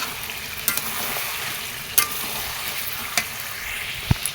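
Meat frying in a pan with its juices cooked off, a steady broadband sizzle with a few sharp utensil clicks and scrapes against the pan, no voices.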